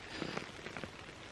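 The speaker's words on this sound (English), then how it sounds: "how long this rain's setting for" Soft, steady rain patters on a surface, faint and continuous with scattered drop taps.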